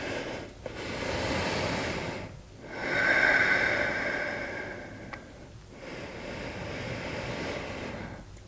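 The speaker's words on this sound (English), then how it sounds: "Several breaths here through the nose." Slow, deep breaths drawn in and out through the nose during a yoga flow, three or four cycles, close and audible with a soft airy hiss.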